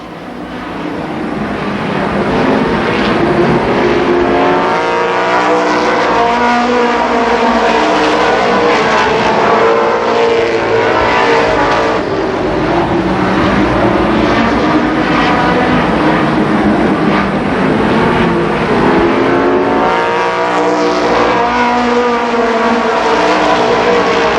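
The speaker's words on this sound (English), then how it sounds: "the green flag is down. They go back to racing." Race cars roar around Columbus Motor Speedway in a 1991 main event, a loud, continuous wall of engine noise with pitch swells as the field passes by.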